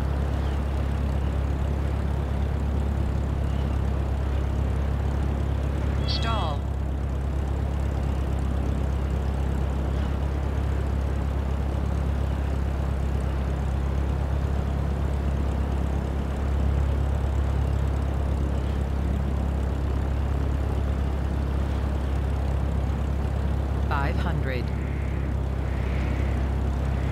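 Aircraft engine drone hums steadily and evenly during a landing approach in Microsoft Flight Simulator 2024. Two brief chirping tones rise above the constant engine noise.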